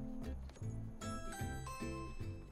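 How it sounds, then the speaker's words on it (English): A house doorbell rings as a faint electronic chime, with repeated melodic tones sounding in a steady pattern over a couple of seconds and no voices. "The doorbell, right here."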